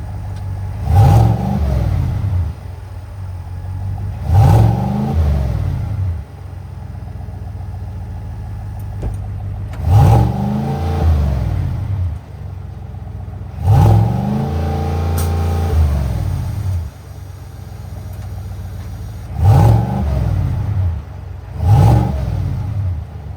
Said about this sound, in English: show you guys what the exhaust note is like on the new Escalade catback exhaust